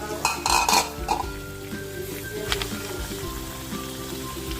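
Mussels and chili dropped into a cooking pot for tinolang tahong, a clattering splash of shells up front, then steady sizzle and bubbling with light utensil clinks.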